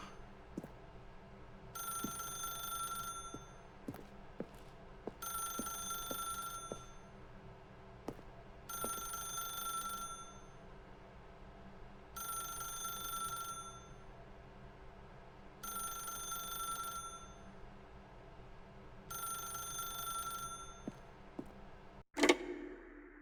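An old-style telephone bell rings in The Stanley Parable: Ultra Deluxe, six evenly spaced double rings over a quiet ticking background, ending in a sharp clunk as the receiver is picked up.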